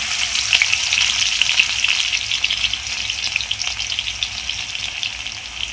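Cumin, mustard seeds, garlic and vegetables frying in hot oil for sambar, giving a loud, steady, close sizzle that crackles throughout with no voices.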